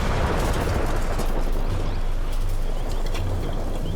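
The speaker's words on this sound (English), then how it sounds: "Massive blast. You can feel the pressure wave even at this distance." A car packed with a full bomb load detonates in a massive blast, heard from a distance as a continuous heavy roar and low rumble with bird calls faintly mixed in.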